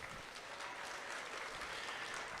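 A small crowd claps at a state fair market hog show in Virginia, a steady patter of applause heard at moderate distance with no voices over it.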